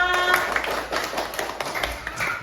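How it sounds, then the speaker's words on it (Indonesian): A group of people clapping together, a steady close patter of hands that lasts a couple of seconds. "Tepuk tangan semuanya."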